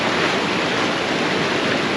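An off-road vehicle pushes through a water crossing on a Colorado trail, throwing up a loud, close, continuous roar of splashing and churning water.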